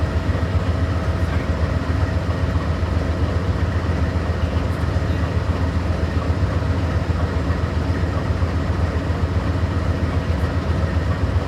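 Amtrak Lake Shore Limited at the Syracuse station, led by locomotive 129 with heritage unit 108, idling with a steady, loud, low diesel rumble that holds unbroken throughout.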